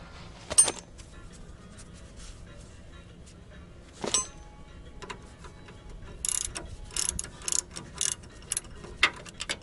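Nut being loosened from the inner tie rod on a 1997 Chevy S10 4x4 during front-end work: a few sharp metallic clicks and ratchet-like bursts, scattered ticks and clanks, with a busier run of rapid ratcheting toward the end, fairly close.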